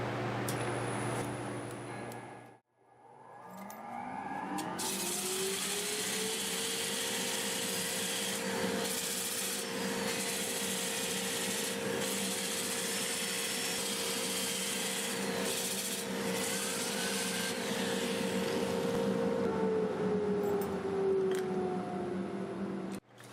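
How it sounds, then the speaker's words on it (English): Catalpa wood bowl sanded on a spinning lathe with a dust collector running, a loud continuous whooshing roar with steady abrasive hiss and a sustained motor tone, starting after a short pause. "I'll start with 80 grit, work my way up to probably 400."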